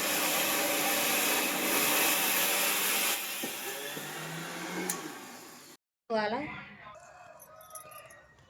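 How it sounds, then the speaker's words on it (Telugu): A mixer grinder whirs loudly and steadily while grinding soaked pigeon peas for chutney, then cuts off abruptly, and someone speaks afterward. "నేనైతే మిక్సీ పట్టేసుకున్నానండి"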